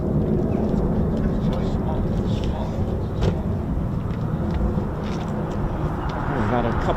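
A Eurofighter Typhoon FGR4 jet departs RAF Coningsby as part of a pair, a loud, steady broadband roar filling the whole stretch without letting up.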